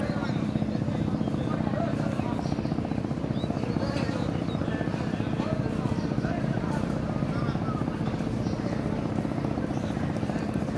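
Passenger launch Farhan 7 arriving at Fatullah ghat on the river, its engine a steady loud low rumble with broadband wash and wind noise throughout, unbroken from start to finish.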